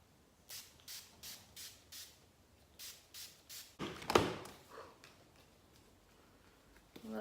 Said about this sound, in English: I'm just going to use my Mecca Cosmetica Makeup Perfecting Mist